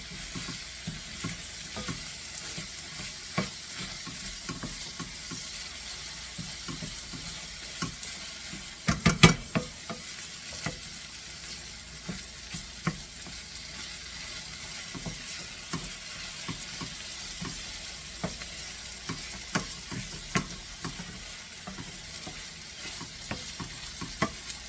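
Ground meat browning in a pan for sloppy joes, a steady low sizzle broken by scraping stir strokes that come close and loud, with one sharp clatter partway through; no voices.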